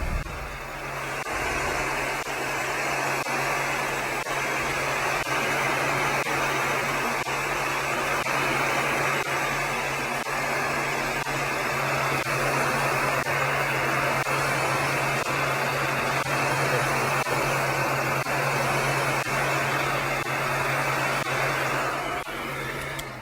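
A heater runs steadily while heat-forming orthopedic diabetic shoe inserts, giving a continuous blower-like hum with a low tonal drone and no pauses throughout.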